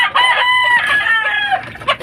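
A rooster crows loudly and close by, one long strained cock-a-doodle-doo with no other sounds around it.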